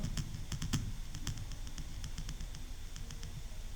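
Clicky, quick keystrokes on a computer keyboard while entering a formula in an Excel spreadsheet, a brisk irregular run of close taps over a faint background hum.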